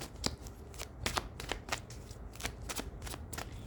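Tarot-style cards shuffled by hand during a card reading, a steady run of crisp riffling snaps and flutters, close and continuous with no talk over it.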